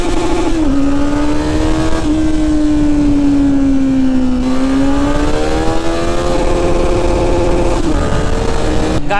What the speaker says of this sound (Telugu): గాయస్ ఇప్పుడు నేను నా ఫస్ట్ గేర్ని రెడ్ లైన్ చెబుతున్నా.